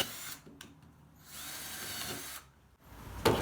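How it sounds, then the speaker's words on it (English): A power drill fitted with a 2-inch hole saw bores into a tube, whirring in two sustained bursts with a short stop between them, then a sharper grinding burst at the end. "2-inch hole saw, drilled 2 inches from the base"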